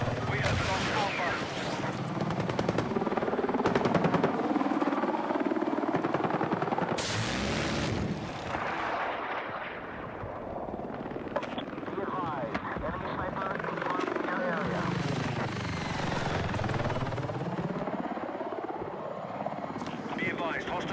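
Enemy helicopter rotor thrum in a military video game, loud and continuous under heavy gunfire and explosions, with in-game radio voices speaking over the combat.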